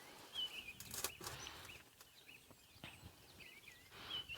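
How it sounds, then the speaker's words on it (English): Birds calling at sunrise in the African bush during a morning game drive, with scattered chirps and short whistled calls coming and going over quiet ambient background, fairly faint and distant. "And it's just the most beautiful sound here,"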